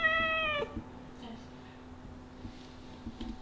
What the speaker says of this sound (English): They are the most vocal cats I know.